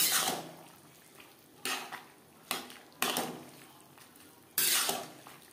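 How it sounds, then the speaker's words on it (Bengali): Fried fish stirred into bottle gourd in a pan, a spoon scraping and knocking against the metal in a few separate bursts with quiet gaps between, close and moderately loud, with no talking. "লাউর সাথে মাছ বেশ ভালো করে মিক্সড করে দেব"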